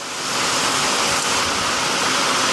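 Heavy downpour pours down outdoors in a steady, dense roar of broadband noise that fades in at the start and then holds loud and unbroken, with no voices.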